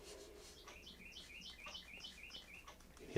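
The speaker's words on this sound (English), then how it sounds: "You hear the birds in the background." Birds chirp and sing in repeated short tweeting phrases in the background of a spring scene in the North Georgia mountains, fairly faint but steady throughout.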